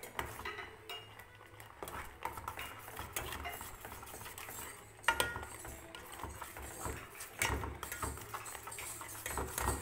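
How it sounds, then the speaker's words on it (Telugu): A spoon stirs ragi malt in a pan on medium heat, with continuous scraping and light clinks of metal against the pan, close and fairly quiet, and no talking. "కంటిన్యూస్గా స్టిర్ చేస్తూ ఉండాలి, మిక్స్ చేయాలి, కలుపుతూ ఉండాలి."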